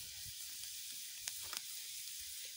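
Garlic sizzles and fries in a pan after ginger as it is sautéed, a steady bright hiss with a few small pops and stirring clicks, close and continuous.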